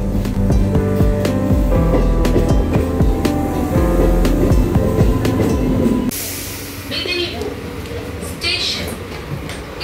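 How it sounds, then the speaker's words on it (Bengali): A train pulls into Midnapore station, a loud rumbling roll of wheels and cars with rhythmic clatter that stops abruptly partway through, leaving quieter platform ambience with scattered clanks. "ঠিক সময় ট্রেন এসে হাজির।"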